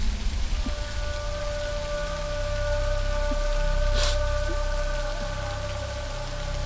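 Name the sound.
heavy rain falling outside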